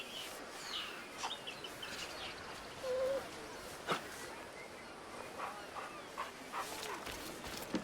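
A dog in the pirate video game Assassin's Creed Black Flag gives a soft whimper and small yelps while being petted. The sounds are faint, over a steady game ambience with distant bird chirps.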